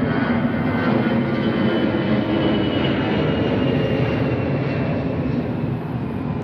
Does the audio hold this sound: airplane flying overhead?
yes